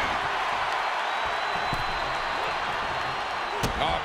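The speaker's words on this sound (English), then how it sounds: "you hear this capacity crowd following you on that journey" Capacity arena crowd in the WWE 2K24 wrestling video game, a steady roar of cheering throughout a tag-team match with a couple of sharp slam impacts cutting through.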